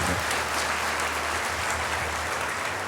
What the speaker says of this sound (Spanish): ¿Por qué no le da un aplauso fuerte al Señor?